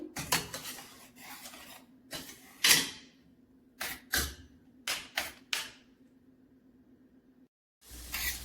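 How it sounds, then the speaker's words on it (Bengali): Tomato and spices are stirred and fried in a pan: a spatula scrapes and knocks against the metal in irregular bursts, close and fairly quiet, over a faint steady sizzle, with one brief silent pause near the end. "এটা এখন আমি ভালো করে কষিয়ে নেবো"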